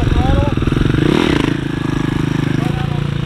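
Dirt bike engine running on light throttle, a steady close, rattly motor drone with a slight rise in revs partway through, with someone talking over it.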